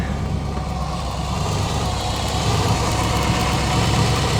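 A lightning-struck Chevrolet Silverado engine runs at a steady idle, a loud, close, continuous mechanical rumble with faint ticking from injectors or spark, and no voices.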